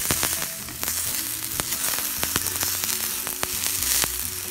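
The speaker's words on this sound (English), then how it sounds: "my pan is hot enough to start cooking. Onions in." Onions fry in a hot pan with dense crackling sizzle and sharp pops, close and continuous, with occasional clinks as they are stirred.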